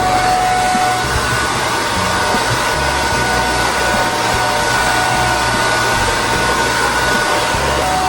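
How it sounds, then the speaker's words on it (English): A blow dryer fitted with a diffuser runs on low heat and the cool setting, a loud, steady whooshing hum held close for the whole stretch with no talk. "I'm gonna take the blow dryer and diffuser, low heat, on cool, and I'm really gonna work it into my hair"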